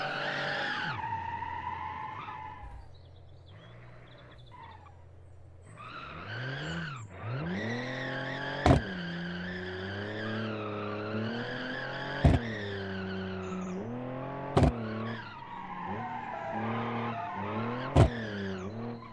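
Car tires skid and squeal in a BeamNG driving game as the car snaps into oversteer, long wavering screeches over engine drone, punctuated by several sharp impacts.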